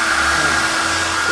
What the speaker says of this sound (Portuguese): Tem até secador de cabelo pra você, tá?